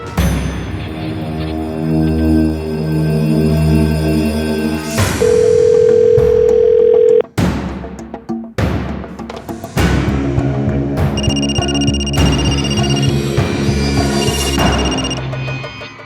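A telephone rings with repeated electronic tones and a steady dial-tone-like hum, loud and close. Dramatic music stings and other tones come in after it, and no one talks.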